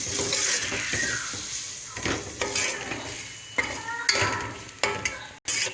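Tomatoes being stirred into masala frying in a pan for Pakistani phool gobi aloo: steady close sizzle with repeated scraping spoon strokes and pan clatter, no talking.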